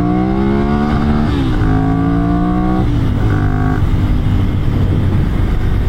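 A Ducati Monster 796 motorcycle engine roars loudly and climbs in pitch through several gear changes, accelerating hard close by with heavy wind rumble.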